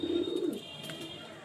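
Pigeon cooing in a loft of pigeons kept for sale, a low throaty coo in the first half-second, then a quieter background with faint chirps; no voices.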